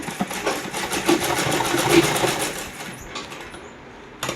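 Sewing machine stitching a seam on a plain shamiz garment, a fast rhythmic needle clatter running steadily for a few seconds before slowing and stopping, with a short final burst, close and alone.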